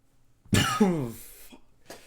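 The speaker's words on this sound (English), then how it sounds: "why am I coughing?" A single harsh cough up close, followed by a short rasping tail and a fainter cough-like breath a moment later.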